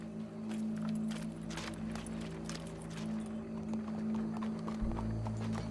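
Horse hooves clip-clopping in the Red Dead Redemption 2 video game, a quick, even run of hoof beats over a low steady hum, fairly quiet, ending in a deeper rumble.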